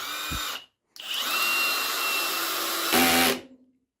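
A Yato YT-82797 cordless drill driver driving a large screw: a brief whir, a short pause, then a sustained high-pitched motor whine under load that strains louder near the end before stopping abruptly, close and alone.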